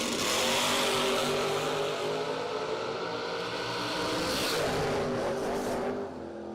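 A drag race at a doorslammer nationals event, a 1968 Camaro against a Chevelle, two engines roaring at full throttle from start to finish, loud and sustained before fading slightly at the end.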